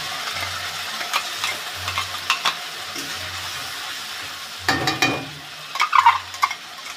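Onion, cumin, dried chilli and ginger-garlic paste frying in a pan for an egg and potato curry, a faint low sizzle broken by soft scraping stirs and a few sharper clatters of the spoon.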